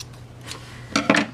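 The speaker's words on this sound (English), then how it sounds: "cut our yarn," Scissors snip through yarn while finishing a crocheted watermelon garland, giving two quick, close metallic cuts at the end after a faint earlier click.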